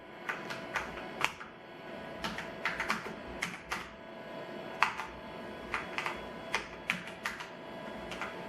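Keys clack on an NEC PC-H98 computer keyboard, a Japanese DOS workstation, in irregular bursts of sharp close taps with short pauses between them, over faint background hum; nobody talks.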